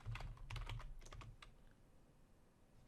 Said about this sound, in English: in PowerShell, I'm just going to type ipconfig.